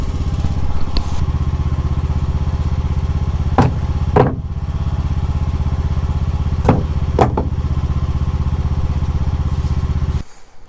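A small engine idles steadily and loudly nearby, with a few brief clanks, before cutting off at the end.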